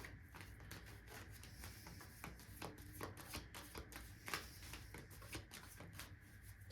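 Tarot cards riffled and shuffled by hand, a steady papery rustle with soft flicks and taps close by, fairly quiet, with no talking.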